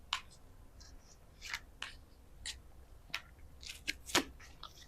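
Tarot cards are shuffled by hand close up, giving soft, irregular riffling and snapping bursts over a quiet background.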